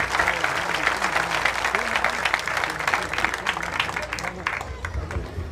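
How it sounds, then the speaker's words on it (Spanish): Audience applause fills a live gathering after a man sings a song: dense, steady clapping from many hands with crowd murmur, continuous and fairly loud throughout. "Un aplauso fuerte para este hermano."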